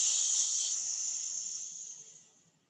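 A single long hiss from breath forced out through clenched teeth during a yoga class starts loud and close, then slowly fades away over about two and a half seconds.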